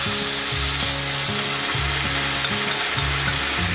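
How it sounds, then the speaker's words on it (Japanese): Chicken pieces sizzle and fry in a frying pan as yangnyeom sauce is added, a steady close crackle with stirring and scraping throughout, accompanied by soft background music and no talking. "しっかりと中まで火が通った鶏肉、フライパンに作っておいたヤンニョムダレを投入。"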